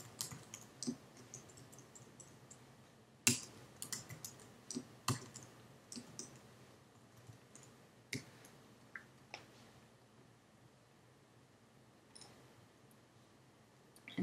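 Keys clicking on a computer keyboard while a file name is typed, in short irregular bursts of taps with a few sharper, louder strokes, close by and otherwise quiet.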